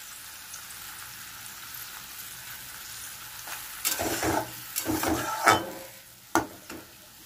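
Elephant foot yam curry sizzles in hot oil with spices being stirred, a soft steady frying hiss that swells into louder crackling spatters and clinks near the end.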